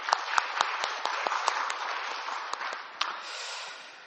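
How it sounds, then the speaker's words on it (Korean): Church congregation at a Sunday service applauds the choir conductor and accompanist: a bed of many hands with sharper individual claps popping out, holding steady before thinning slightly at the end. "반주자 한번 박수 한번 쳐드립시다"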